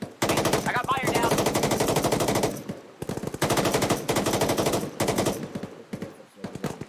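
Bursts of automatic rifle fire from an automatic rifleman in ArmA 3 military combat, rapid loud strings of shots in three long volleys separated by brief pauses, with faint voices mixed underneath.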